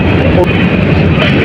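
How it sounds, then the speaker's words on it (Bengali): A long freight train rolls past close by at Jamtoil station in Sirajganj, Bangladesh, a loud, continuous heavy rumble filling the short stretch. "মালবাহী ট্রেন এটা।"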